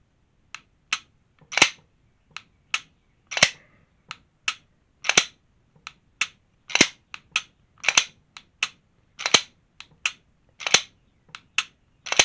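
A PSA Dagger 9mm pistol's hinge trigger is dry-fired and reset over and over, giving a steady series of sharp, close mechanical clicks with short pauses between them and no talk.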